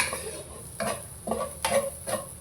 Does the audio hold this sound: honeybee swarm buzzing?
no